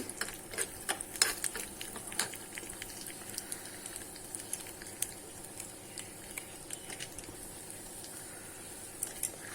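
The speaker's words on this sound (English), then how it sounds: "Now I'll just roast it a little." Cumin and fenugreek (methi) seeds roast in a pan for dosa chutney, giving a continuous soft sizzle with frequent light scraping and stirring clicks, close and steady throughout.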